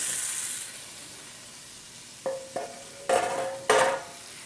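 Oven-firmed, marinated tofu sizzles with a steady hiss in an oiled pan, broken by a few sharp, ringing taps of a utensil against the pan.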